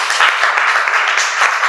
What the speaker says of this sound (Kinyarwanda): twayikomera amashyi ni yacu.